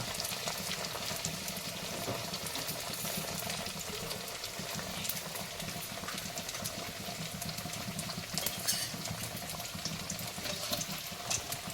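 Pieces of fish fry one at a time in a home kitchen pan, giving a steady, dense sizzle that holds at an even level the whole time, with no talking.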